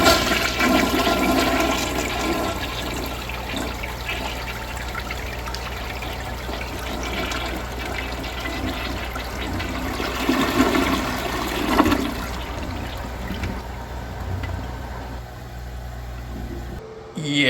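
A 5th-generation Kohler Wellworth Waterguard toilet flushes with a loud, steady rush of water that holds for most of the run, then thins into a trickle and refill hiss near the end, with faint voices in the background.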